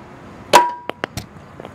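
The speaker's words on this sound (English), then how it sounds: "You just take a hammer and" Hammer blows on a Pontiac Fiero engine cradle bushing: one loud metallic strike, then three lighter, sharp taps spaced roughly evenly apart, close and clear with no talking.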